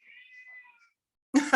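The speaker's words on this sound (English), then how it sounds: "There's the cat." A house cat meows in a thin, drawn-out call that fades, then after a pause gives a louder, closer, harsher meow.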